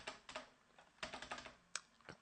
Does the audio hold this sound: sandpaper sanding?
no